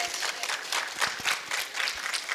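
An audience at a lecture gives the doctor a strong round of applause, dense steady clapping from many hands throughout, fairly close and even in level.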